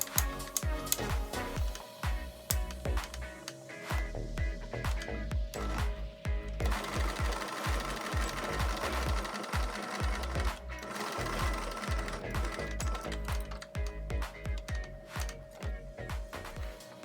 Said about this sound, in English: we will fold the loop once more and sew it.